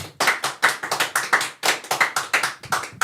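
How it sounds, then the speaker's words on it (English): A small crew clapping loudly in a podcast studio, a few people's hands in quick, uneven bursts of sharp, close claps with short pauses between them. "Clap as loud as you guys want right now."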